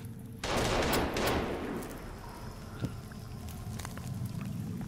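Burst of gunfire from a gun in the survival video game Sons of the Forest, a loud dense volley near the start that trails off into softer background game noise.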